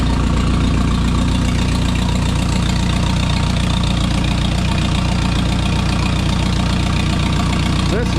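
An old chore tractor engine idles just after a cold start, a loud, steady low rumble with a regular knocking pulse running throughout, close up and unbroken.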